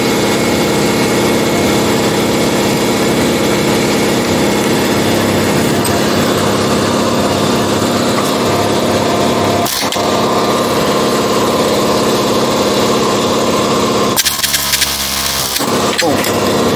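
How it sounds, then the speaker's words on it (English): An angle grinder works on a rivet on the front end of a 1982 Buick LeSabre diesel, a loud continuous high whine with a short pause and a harsher burst of grinding near the end. "if you grind more, you usually see the outline of the rivet"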